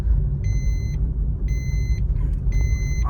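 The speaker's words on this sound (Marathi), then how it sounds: "गाड्या तर भरपूर आहेत त्या बघा लय गर्दी आहे आज" Many vehicles are crowded outside a hospital on a busy Saturday market day. Steady traffic rumble runs through the whole stretch, and three clear, evenly spaced electronic beeps sound on top of it.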